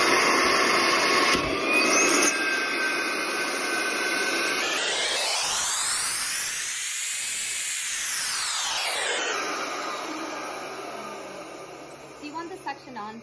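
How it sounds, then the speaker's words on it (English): A vacuum forming machine's vacuum pump runs as a loud, steady hiss and whir, its tone sweeping up and back down over several seconds before settling, with no talk over it. "but also turn on the vacuum effect"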